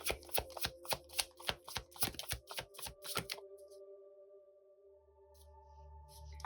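Tarot cards shuffled and drawn from the deck: a rapid run of crisp, close riffling flicks over about three seconds, then quieter soft handling as cards are laid out.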